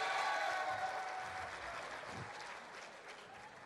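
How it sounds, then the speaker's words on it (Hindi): Sustained audience applause at a literary festival session in Lahore, a dense wash of clapping from a large crowd that starts loud and slowly tapers while continuing throughout. "हामिद मीर साहब के लिए तालियां बजाइए"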